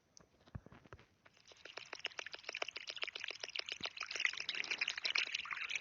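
Gasoline poured from a can in the horror game Ice Scream: a rapid, steady run of trickling, glugging ticks that starts faint and grows louder and denser, heard alone.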